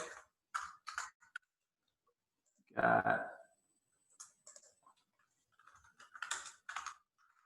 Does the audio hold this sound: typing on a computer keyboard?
yes